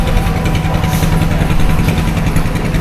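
A trawler's engine on the way to Dublar Char in the Sundarbans, a steady loud rumbling drone with a chugging low throb that holds unbroken and close throughout.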